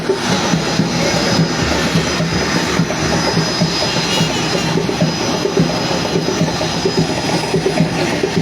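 Jet aircraft engines roar at Roberts International Airport in Liberia during departures, a loud, steady broadband rumble and whine that stays constant throughout with no speech.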